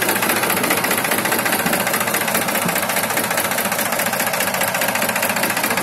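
A 2001 Mahindra 265 tractor engine idles close by, a loud, steady, knocking diesel rumble that holds without change and without voices.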